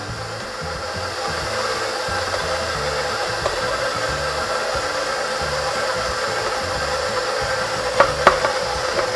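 An electric mixer works flour into oatmeal raisin cookie dough with a steady, loud whirring motor drone and a few clanks against the bowl near the end.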